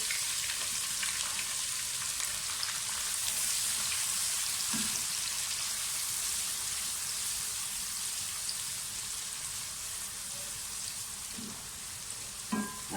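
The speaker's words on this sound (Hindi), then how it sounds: "जीरे को थोड़ा सा सौते करें। साथ ही इसमें प्याज डाल दें।" Cumin and grated onion fry in hot oil for a white chickpea curry. A close, continuous sizzle like light rain runs without pause, with a few faint clinks of a spoon against the pan.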